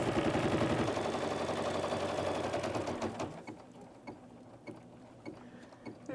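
Embroidery machine stitching a winter snowflake quilt block in the hoop, a dense steady mechanical whir for about three seconds that stops, leaving sparse clicks and taps close by.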